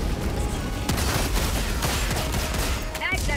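Shotgun blasts fired in Helldivers 2 during a chaotic fight, repeated sharp reports embedded in a continuous wash of battlefield gunfire and explosions, loud and dense throughout.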